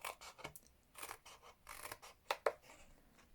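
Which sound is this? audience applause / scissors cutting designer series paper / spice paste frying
scissors cutting designer series paper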